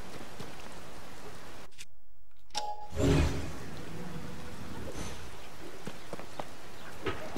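Steady rain falls in the video game Zelda Tears of the Kingdom as a soft, even hiss. It drops out briefly, then swells into a louder rush before settling back to a gentle patter.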